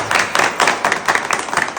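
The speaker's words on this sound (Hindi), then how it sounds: "मैं चाहूँगा एक बार जोरदार तालियां जरूर बजा दें" A seated audience gives loud applause for a doctor at a network-marketing talk: dense, fast, uneven hand claps, close and continuous throughout, with no voices over them.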